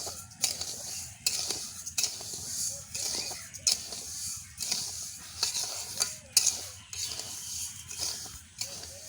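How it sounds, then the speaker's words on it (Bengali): Sugar being stirred in a pan while making sweet fried khaja-style snacks, with repeated scraping and clinking strokes of a utensil over a soft sizzle, close and steady, no voices. "এবার চিনিটা আমরা একটু নেড়ে চেড়ে নেব"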